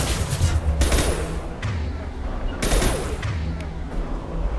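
Rifle gunfire in the video game Mass Effect 2: two loud bursts of rapid shots about two seconds apart, with booming low thuds and ringing tails.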